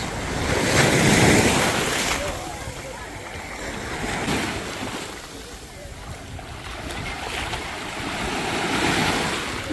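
Sea waves wash onto a sandy beach at Bağırganlı, swelling and receding in slow surges under steady wind buffeting the microphone.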